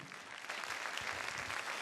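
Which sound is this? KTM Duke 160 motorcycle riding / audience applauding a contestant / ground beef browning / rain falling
audience applauding a contestant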